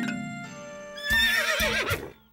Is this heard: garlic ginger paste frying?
no